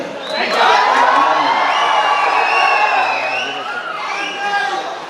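A large audience at a stage function shouts and cheers loudly, with whoops and high voices rising and falling together in a sustained roar that stays near and dense throughout.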